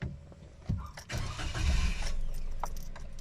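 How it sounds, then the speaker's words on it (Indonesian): A car engine with electronic fuel injection cranks and fires up, a sharp starter burst followed by a rising, steady rumble that settles into a running idle, heard from inside the vehicle with no talk. "Coba kita nyalakan mesinnya"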